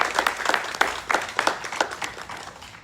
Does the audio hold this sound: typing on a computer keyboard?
no